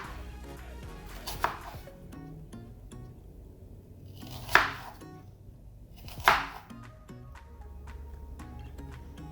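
A kitchen knife cuts into an onion near the root on a board, three sharp separate chops standing out over a soft, steady background hum, with no one speaking.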